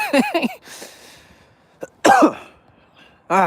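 Several harsh coughs in quick succession, then a pause and two more loud coughing bursts, close and forceful with no talking.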